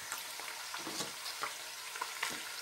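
Soft sizzling of onions frying in a pan, with faint stirring clicks and scrapes scattered through, fairly quiet and close.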